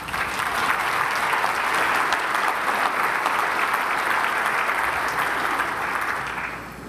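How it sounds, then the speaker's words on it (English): Conference audience applause at the Conference of the Americas in New Orleans, a dense sustained burst of clapping from a large crowd that fills the room evenly and tapers off at the end. "So please give them an applause."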